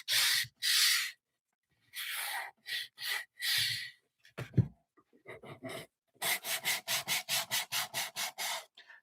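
Wood is sanded smooth to knock down raised burrs before painting, brisk rubbing strokes in separate bursts, then a fast regular run of short back-and-forth passes, close and fairly loud.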